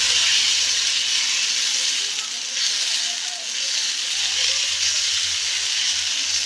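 Oil sizzles loudly and steadily as a Telangana-style corn dosa fries on a hot pan. The bright, hissing crackle runs unbroken at close range, with a faint low hum underneath.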